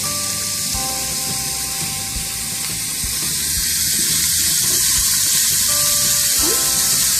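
Peppers and onions frying in a pan for chicken corn chowder, a steady broad sizzle that holds and swells slightly over several seconds, close and continuous with faint clinks.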